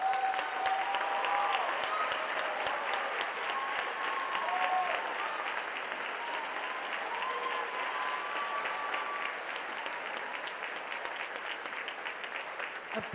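Sustained audience applause fills a hall at the 2013 IHSA Speech Individual Events State Finals awards ceremony, a dense steady wash of many hands clapping that stays loud throughout and fades only slightly near the end.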